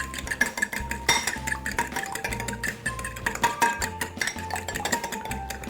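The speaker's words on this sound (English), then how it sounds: "I've opened 3 eggs in a bowl here, and we're going to go ahead and mix them up" Three eggs are beaten in a bowl, a quick, busy run of utensil clinks and scrapes against the bowl, close and steady, with no talk.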